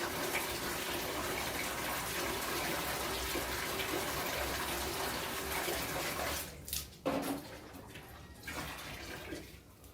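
Water pouring steadily from a tap into an emergency water bucket at a house in Rwanda, a continuous loud gushing fill that cuts off briefly near the end, then resumes unevenly.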